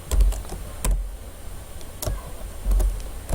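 Keys clack on a computer keyboard in a quiet room, with a few scattered clusters of light, close taps and short pauses between them.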